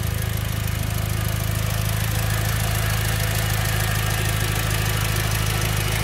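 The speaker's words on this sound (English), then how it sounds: "Very healthy sounding engine." A 2006 Mitsubishi EVO 9 MR with a turbocharged 4G63 engine idles steadily, a loud, close, even mechanical hum with a constant low drone and no voices over it.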